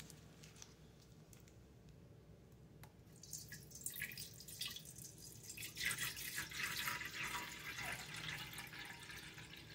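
Tap water runs into an electric percolator, faint dripping at first, then a fuller, louder splashing stream as the pot fills, with no talk over it.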